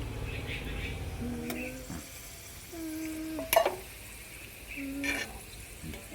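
Raisins frying in oil in a pot while being cooked for chatti chicken biryani, a quiet sizzle with scraping stirs and a few sharp clanks of a utensil against the pot.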